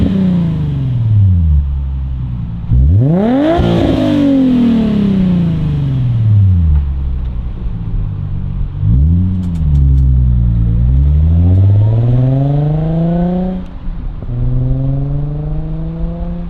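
A Nissan 350Z with a VQ V6 and aftermarket exhaust, heard from outside the car, revs repeatedly from idle, each rise swelling into a loud, deep raspy rumble before falling back to a steady burbling idle.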